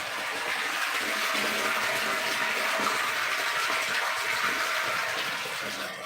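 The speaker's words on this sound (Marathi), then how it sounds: "तर पाणी चालू केलेलं आहे टाकी भरायला हे येतो टाकी आता पाणी चालू आहे" Water from a borewell motor gushes into a rooftop tank, a loud, close, continuous rushing flow that holds steady throughout with no voices.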